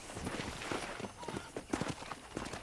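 Horse hooves clip-clop at a walking pace on a ranch in Red Dead Redemption, the steps soft and uneven, with some faint voice and ambient noise underneath.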